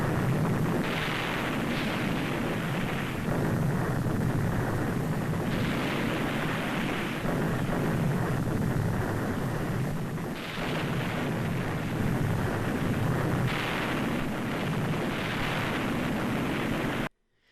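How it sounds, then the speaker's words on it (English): Depth charges detonating during an attack on submarines in wartime: a series of deep, heavy booms, roughly five, rising out of a continuous loud rumbling roar with no voices. "Here they attacked with depth charges."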